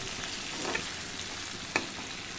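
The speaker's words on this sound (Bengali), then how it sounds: "বেগুনটা একটু ভাজা হোক" Eggplant fries in a pan with a soft, even sizzle, quiet overall, and two short utensil clinks about a second apart.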